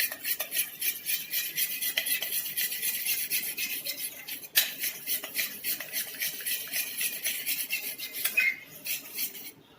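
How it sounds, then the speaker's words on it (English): A spoon stirs store-bought curd into a smooth paste in a bowl, giving a continuous close scraping and rasping rub in quick repeated strokes, with a brief break midway and no talk. "Now I'm stirring this."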